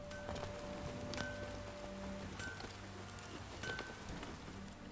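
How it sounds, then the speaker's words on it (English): Steady rain falls in The Witcher 3, a continuous soft hiss of drops with occasional sharper patters, even in level throughout and with no voices. "it rains like this come sowing"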